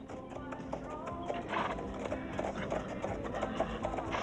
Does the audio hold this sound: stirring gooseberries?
no